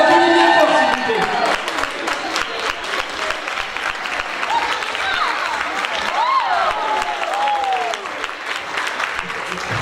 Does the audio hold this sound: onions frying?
no